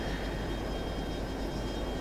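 An A-10 Thunderbolt flies in the video game F22 Total Air War, heard as a steady, faint, unbroken aircraft engine roar and hiss with no talking.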